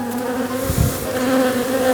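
Bees from a strong nuc colony buzz loudly and close during a spring hive inspection, a thick sustained drone with a brief low thump partway through.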